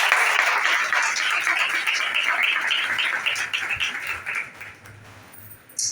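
A church congregation at a Sunday meeting claps to welcome the pastor, a broad wash of applause that is loud at first and gradually thins out.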